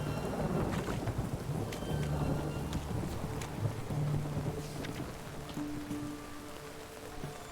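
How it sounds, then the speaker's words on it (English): Steady rain patters down while low thunder rumbles through in The Witcher 3, fading a little toward the end; no voices. "still raining?"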